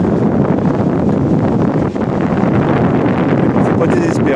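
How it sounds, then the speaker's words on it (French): A steady east wind gusts over a calm seashore during surf fishing, buffeting the microphone with a loud, continuous low roar that barely lets up. "Le vent monte légèrement, on l'a de ouf, c'est un vent de est"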